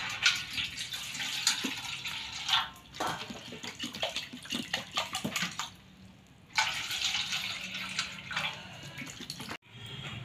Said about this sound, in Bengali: এই যে চিড়াতে একটু জল দিয়ে ধুয়ে নেব।